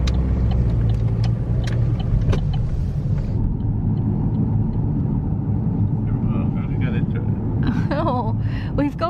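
A car drives along a road on a roughly five-mile trip, its engine and tyre rumble steady and fairly loud throughout, with people chatting over the noise.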